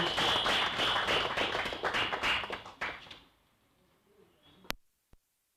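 Audience clapping at an inter-university debate championship as a speaker from Bugemba University is welcomed: dense, sustained applause that thins and fades out after about three seconds, leaving near quiet with one sharp click.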